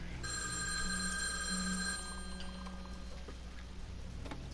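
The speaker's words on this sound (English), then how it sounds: "The phone will ring and there'll be nobody there." A telephone rings in a quiet house, a steady electronic trill with a faint ticking clock beneath, the tone sustained for about two seconds before fading into low room noise.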